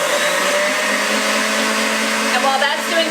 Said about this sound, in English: Turn these back on high and let them whip until we get stiff peaks.